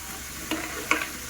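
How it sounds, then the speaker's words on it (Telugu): Food sizzles softly in a pan while a utensil scrapes through it twice in quick, brief strokes. "ఇట్లా కలుపుకుంటూ ఫ్రై చేసుకోవాలి"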